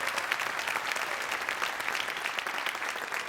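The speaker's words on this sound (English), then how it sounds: "How about one big round of applause for all of our alumni?" Audience applause for an alumni band at a junior high bands alumni festival, a steady, dense roar of clapping from a crowd that holds evenly throughout.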